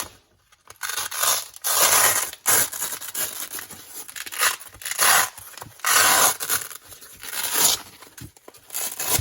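A Velcro cummerbund is pulled away from a plate carrier in a series of loud, ripping tears, each lasting about a second, with short pauses and rustling between pulls.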